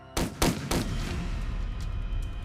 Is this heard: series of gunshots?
yes